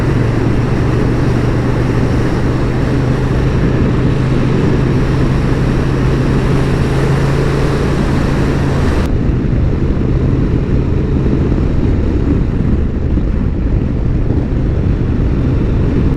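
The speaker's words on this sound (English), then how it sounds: "The engine runs absolutely perfectly." A Honda XL750 Transalp motorcycle engine runs smoothly while riding a county road along a river on a day of rain, mud and fog, a loud continuous drone mixed with wind rush, with a sharp drop in high-end hiss partway through.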